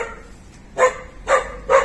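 A dog barks three times at the house, loud and close, with evenly spaced sharp barks and quiet between them.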